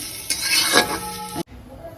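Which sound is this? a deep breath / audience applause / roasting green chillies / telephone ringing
roasting green chillies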